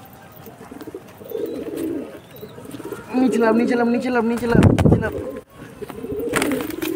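Pigeons coo close by in a series of soft, throaty calls, with wingbeats and bird movement around them. A person's voice briefly speaks over the birds.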